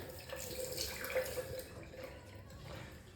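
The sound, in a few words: hot tap water running to wet razor blade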